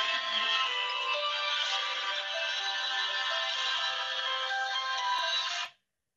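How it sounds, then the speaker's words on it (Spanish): A mobile phone ringtone rings loud and steady for several seconds in a lecture hall, then cuts off abruptly, with no talking over it. "Permítanme, contesto al teléfono un segundo."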